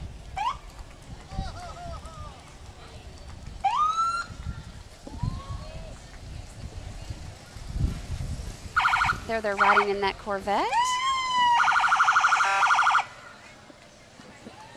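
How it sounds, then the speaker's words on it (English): Loud emergency vehicle sirens wail and yelp in a Fourth of July parade in Arlington, including DFW International Airport Public Safety units, rising and warbling close by over crowd noise while someone talks. "Some loud sirens."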